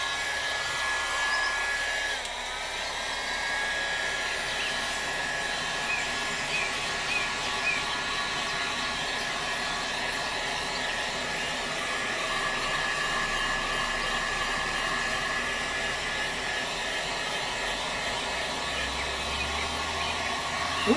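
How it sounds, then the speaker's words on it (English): A hot air gun blows continuously at close range over violin work, a loud, steady broadband whoosh with a faint high whine that holds for the full twenty seconds. "Okay, plug in the hot air gun."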